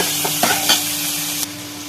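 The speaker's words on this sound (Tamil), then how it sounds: "இப்போ ஒரே ஒரு தக்காளி குட்டி குட்டியாக கட் பண்ணி வச்சுருக்கேன் அதையும் போட்டு நல்லா வதக்கிட்டுக்கலாம் வெங்காயம் நல்லா மசிய வதங்கட்டும்" Onion and a small chopped tomato sauté in a pan for a Tirunelveli-style kuzhambu, with a steady close sizzle broken by a few quick scraping stirs and no talking.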